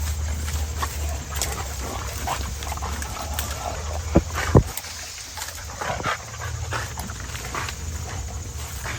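A pack of dogs, American bully, Rottweiler and Cane Corso puppies among them, bite and tug at a tree outdoors. There is steady rustling and snapping with snuffling growls and a few sharp cracks as branches give way.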